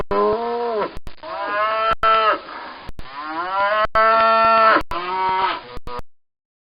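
Several long, drawn-out cow moos follow one another in close succession, loud and near, with only brief pauses between calls and no talking.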